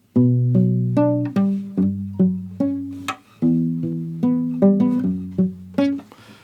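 A clean, melodic classical guitar line of fingerpicked single notes and small chords, played at a moderate pace, each note ringing briefly with some muting, no voices.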